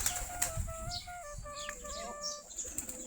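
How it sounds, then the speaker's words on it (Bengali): Desi Giribaz pigeons crowd in to feed, with wing flaps, scattered chirps and calls from other birds around, close by and moderately loud, no talking. "আমাদের কবুতরগুলা খাবার খাওয়ার জন্য কিরকম করতেছে দেখেন।"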